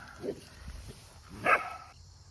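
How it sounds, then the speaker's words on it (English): A dog gives two short, separate barks or yips about a second apart, fairly faint, against a quiet background. "She's a dog."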